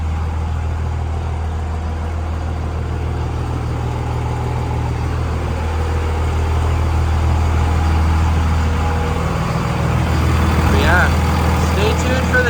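A Dodge 5.9 Cummins diesel truck fitted with a Quadzilla Adrenaline tuner idles steadily at night, a loud low rumble throughout, with someone talking over it.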